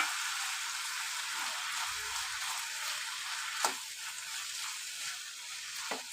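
Chicken sautéing in a pan with potato, carrot and beans for a Kerala chicken stew makes a steady, fairly quiet sizzle, broken by a couple of soft taps from the stirring spoon.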